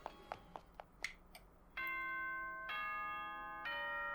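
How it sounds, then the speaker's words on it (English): The morning Monokuma announcement chime from the video game Danganronpa 2 rings out as a series of bright, sustained bell-like tones after a few light taps, clear and alone. "there was the morning Monokuma announcement"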